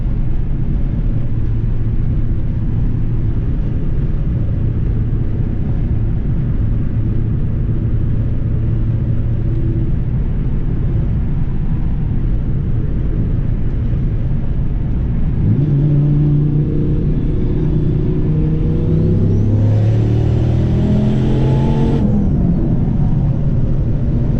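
A boosted Pontiac Firebird's engine idles with a heavy rumble and then revs hard several times, rising in pitch with each climb, loud and close, with a high whine near the top of the revs.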